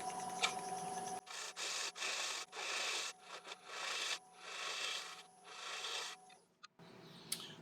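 On a wood lathe spinning at 550 RPM, a turning tool cuts away the tenon of a small oak plate in short, uneven scraping bursts over a thin, steady motor whine, close and fairly quiet.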